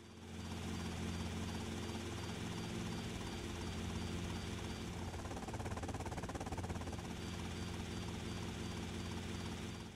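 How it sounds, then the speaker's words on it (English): A loud, continuous helicopter rotor thrum with engine whine as a helicopter takes off in GTA Vice City Definitive Edition, steady and close throughout, no voices. "this helicopter seems to take off more faster than the original"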